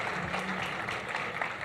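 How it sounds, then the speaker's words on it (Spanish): A tech talk audience gives applause for a speaker, a dense, steady wash of many hands clapping at moderate loudness that carries through the whole short stretch without letting up. "damos un fuerte aplauso para Guillermo"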